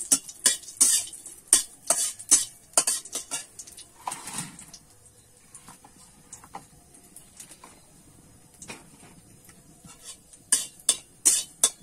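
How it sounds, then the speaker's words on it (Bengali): Nigella seed tempering is stirred in a pan for a fish curry, producing a rhythm of sharp metallic spatula clinks and scrapes over a faint sizzle. The clinking pauses into quiet for several seconds, then resumes quickly. "ফোড়নটাকে আমি একটুখানি ভেজে নেব।"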